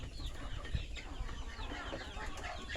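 Free-ranging native village chickens cluck and murmur in a soft, scattered chatter, distant and fairly faint over an outdoor rural background, with no speech.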